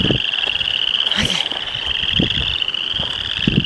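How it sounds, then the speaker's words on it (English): Frogs call loudly outdoors on a rural homestead, with a steady high chorus of trilling under intermittent low croaks, and a brief rustle near the middle. "The frogs are very loud"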